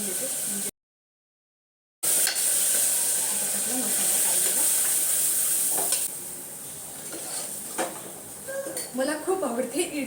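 Sambar masala goes into a sizzling tempering in a pan. After a brief gap, a loud steady sizzle with hissing steam runs on, and spoon-and-pan clinks and scrapes rise near the end.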